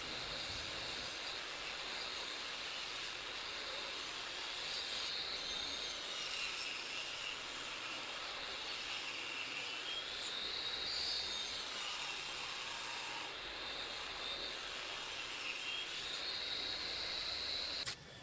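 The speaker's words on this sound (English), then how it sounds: "I want to run them through my table saw to make 1/8 inch strips." Table saw ripping wood into 1/8 inch strips for a cutting board, a continuous loud whining cut with a steady high-pitched buzz and slight rising and falling tone throughout, with no talk.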